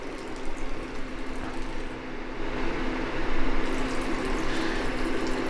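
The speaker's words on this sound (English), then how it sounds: "And now we've turned the fan into a water pump." A computer fan submerged in tap water, running as a makeshift pump, makes a steady churning, bubbling whir with a faint hum underneath, moderately loud and close, with no voices.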